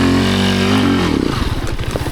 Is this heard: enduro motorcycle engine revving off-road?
yes